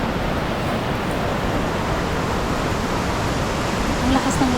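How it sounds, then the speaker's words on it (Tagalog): Steady, dense rushing water of a waterfall roars without a break, loud and close, with no other sounds standing out. "Ang lakas ng lagaslas ng tubig"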